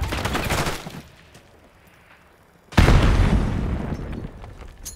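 A stun grenade detonates during a Call of Duty Black Ops 6 match, beginning with a loud burst, dropping to a lull, then a sharp, heavy blast with sustained rumbling roar close by, over game gunfire ambience.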